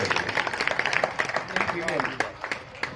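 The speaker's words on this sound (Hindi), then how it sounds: "जोरदार तालियां हैं।" An audience at a devotional bhajan gathering claps for a singing couple. The applause is brisk and scattered, running under a man's continuous speech at moderate volume.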